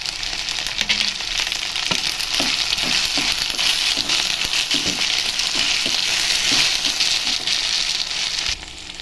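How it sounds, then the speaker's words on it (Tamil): Okra frying and sizzling in a pan, a constant close hiss with light stirring scrapes throughout. "வெண்டைக்காய் நல்லா ஃப்ரை ஆயிடுச்சு."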